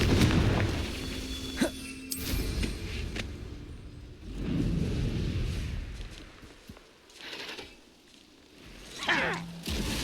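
Repeated Confringo fire spells blasting in the video game Hogwarts Legacy, a series of booming bursts with rumbling tails spread across the stretch, loud and close with no talk.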